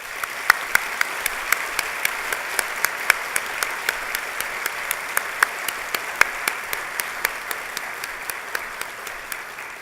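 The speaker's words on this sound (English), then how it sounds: "Let's join in giving them a big round of applause" A convocation audience at a spring graduation ceremony gives applause, a steady, moderately loud patter of many hands with a few sharper individual claps standing out at regular intervals throughout.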